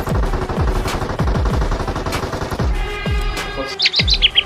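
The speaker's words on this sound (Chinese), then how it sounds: "但敌人停下来交火，倒是给了鲨鱼劝架的机会" Rapid gunfire bursts from the mobile battle royale game Peacekeeper Elite, with several opposing squads trading shots in a firefight, come as repeated sharp cracks at a steady pace, followed near the end by a few high chirping game tones.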